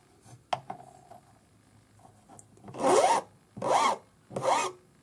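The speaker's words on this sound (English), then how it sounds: "we need to file this back flat after we cut it. So once again, your flat number two cut hand file." A flat number two cut hand file rasps across metal in three firm, even strokes, each a loud scraping burst with short pauses between, preceded by a few small clicks and handling noises.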